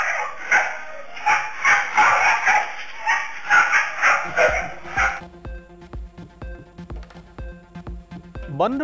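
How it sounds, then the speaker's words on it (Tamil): A stray street dog barks and yips repeatedly, close and loud in a rapid run of barks for about five seconds, after which steady musical tones take over. "முதியவரை தெருநாய் கடித்து குதறும் பதைப்பதைக்கும் வீடியோ"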